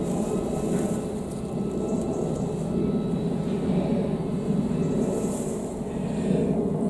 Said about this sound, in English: I'd forgotten about the aeroplanes. How could I have forgotten about the aeroplanes already?